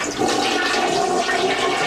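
A toilet flushes with a loud, steady rush of water that stays close and fills the whole moment, with no talking.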